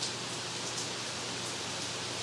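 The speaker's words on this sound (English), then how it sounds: "Do you hear that rain? It's getting loud, isn't it?" Rain falling outside, a steady soft hiss of drops pattering on surfaces, continuous and fairly faint, heard alone without any talking.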